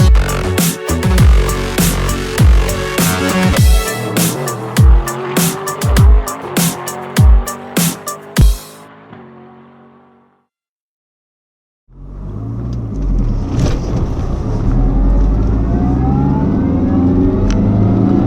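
A 2003 Saab 9-5 Aero, a tuned 560 bhp highway car, revs and accelerates hard through several sharp gear changes, loud and close, then cuts to a brief silence before a steady cruising drone with road and wind noise resumes.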